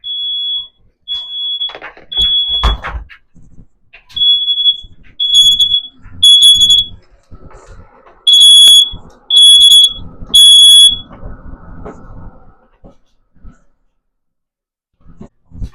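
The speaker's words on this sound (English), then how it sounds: "your smoke alarm will probably go off when you're cooking this." A shrill smoke alarm, set off by cooking, beeps in repeated loud bursts, with a person's breathing and rustling movement nearby between the tones.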